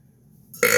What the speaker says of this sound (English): Yeah, burp in my face.